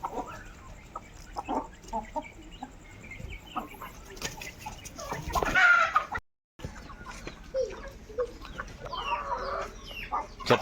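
A Bersa breed hen clucks in short, scattered bursts near and far, a louder squawking flurry midway, with a brief drop to silence and faint talk in the background.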